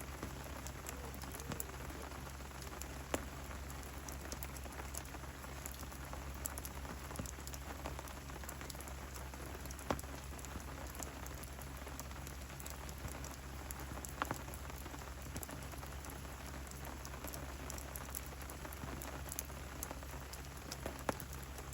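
Steady overnight rain patters on a surface beside a carp fishing lake, a soft continuous hiss dotted with scattered sharper drips, faint and even, with no voices.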